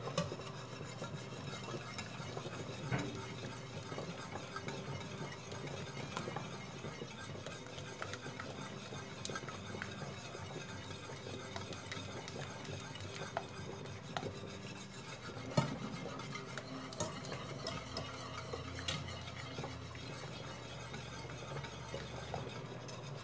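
Sugar and butter batter being stirred in a pot on the stove, a continuous soft rasping and scraping of a utensil against the pan, steady and close, with no speech.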